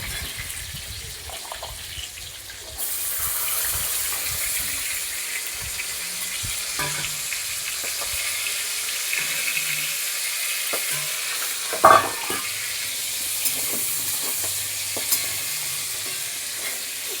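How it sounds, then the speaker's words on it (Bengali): Boiled green peas fry in oil in a home kitchen pan, giving a continuous steady sizzle with occasional faint pops and stirring scrapes, and one sharper crack partway through. "তাও ফাটবে, মটরশুঁটি একটু ফাটেই সমানে।"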